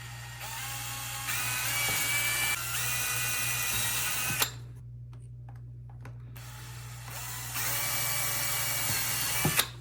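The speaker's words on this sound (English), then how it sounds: "we're ready to start drilling" A power drill whines steadily in two long bursts, separated by a brief quiet pause, with a short mechanical clack near the end, drilling holes to install a light bar on a Lexus LX470.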